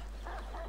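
A dog in Assassin's Creed 3 gives a short, muffled bark or yip over a constant low game hum.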